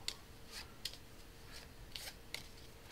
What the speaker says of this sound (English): What you're going to do is you're going to shuffle those up